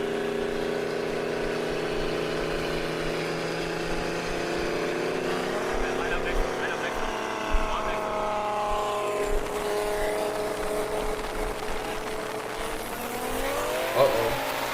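Street race cars, a twin-turbo 5.0 Mustang against a BMW, accelerate hard with a rising, layered engine roar heard from a distance as the pitch climbs through the gears, with people talking over it.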